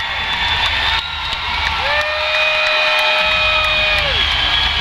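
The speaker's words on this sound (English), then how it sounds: "And the crowd goes crazy." Loud, dense crowd cheering and shouting at an MMA fight right after a submission win, with whoops and a sustained whistle-like tone riding over the roar throughout.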